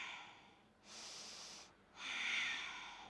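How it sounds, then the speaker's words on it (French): Two slow, breathy nasal breaths during yoga, a long exhale followed by an inhale, close and soft with no talking. "On inspire et on expire."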